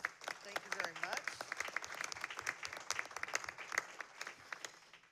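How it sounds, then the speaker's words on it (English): Applause at a CalPERS board meeting for the day's presenters: a room of steady, moderately distant clapping lasting several seconds, with some voices speaking over it. "Let's take a moment to give today's presenters a round of applause."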